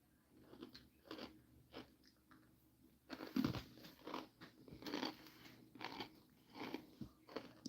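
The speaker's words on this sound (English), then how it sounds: "I'm sorry for the crunch crunch." Crunchy snack food being bitten and chewed close to the mic, a series of quiet crisp crunches in an irregular rhythm, with no talking.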